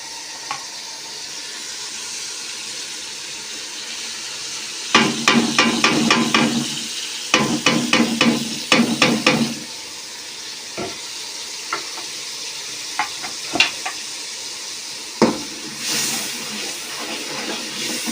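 Spices being stirred into a pot of cooking sarson saag, with bursts of spoon scraping and clattering against the pot over a low simmer and occasional single knocks.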